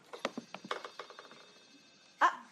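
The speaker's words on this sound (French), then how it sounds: "apparemment certains n'ont pas éteint leur téléphone portable" A mobile phone rings during a live comedy stage show, a run of quick electronic tones that ends in one louder burst.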